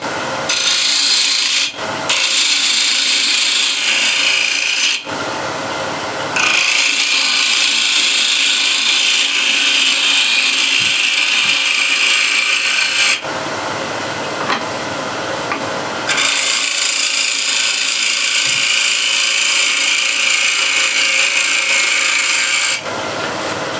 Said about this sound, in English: now I can make sloping curve here using again spindle gouge